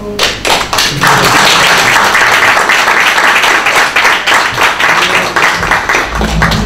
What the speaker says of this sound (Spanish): dejamos un aplauso